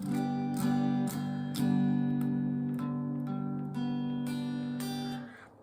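A strummed major barre chord on guitar rings out several times in succession, bright and full, with each strum sustaining before the next.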